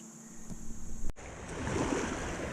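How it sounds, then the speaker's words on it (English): Waves break on a shore where someone is sifting for arrowheads. There is a sharp cut partway through, then a rising, washing surge of surf follows, fairly close and moderately loud. "while these waves are going"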